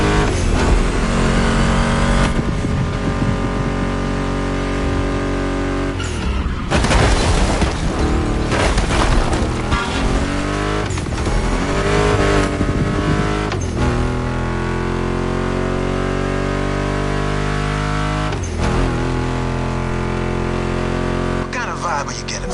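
A Ford Mustang GT muscle car in The Crew Motorfest roars and revs steadily throughout, a loud continuous engine drone with rising and falling pitch sweeps and a few heavier bursts.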